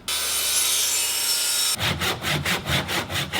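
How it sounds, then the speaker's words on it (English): A miter saw cuts through reclaimed timber: a loud, continuous cutting roar gives way to a rapid series of rough, rhythmic rasping strokes through the wood, close up with no talking. "cutting the majority of it on the miter saw"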